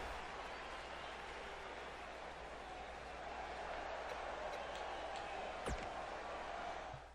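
Steady crowd cheering and applause from a WWE 2K19 wrestling video game fill the whole stretch as a broad, continuous roar with a few brief sharp accents, and no clear voice stands out above it.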